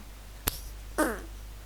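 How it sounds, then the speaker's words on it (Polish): A fart sound effect in a Garry's Mod game, one short sharp pop followed by a longer buzzy, squeaky blurt. "sorry, pierdłem się"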